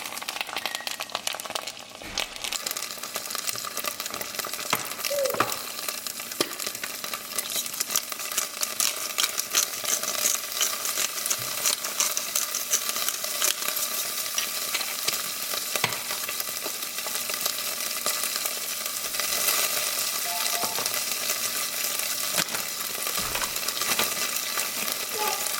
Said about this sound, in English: Now that the green beans are sauteing,